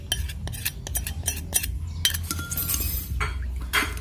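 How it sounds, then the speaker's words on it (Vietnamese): A spoon scrapes and clinks against a bowl while stirring chili sauce into a vegan dipping sauce, steady close clatter for a few seconds with no talking. "Đó, thì cứ quậy đều nha quý vị"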